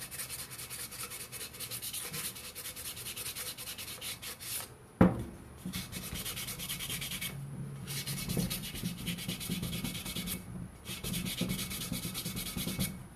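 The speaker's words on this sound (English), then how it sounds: "around the outside here, I'm going to sand to get it nice and even and smooth." 220 grit sandpaper rubs around the outside of a turned wooden cup in steady, soft, repeated strokes, with a brief sharp knock midway and short pauses between passes; no one talks.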